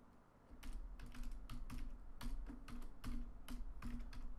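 Keys clack steadily on a computer keyboard as a class name is typed in Android Studio, a quick irregular run of close, crisp taps with no talking.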